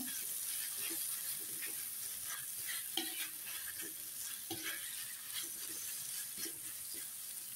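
Black pepper egg sauce with onion being stirred in a pan, a soft steady sizzle under repeated light scraping and tapping of a utensil against the pan, fairly faint and continuous.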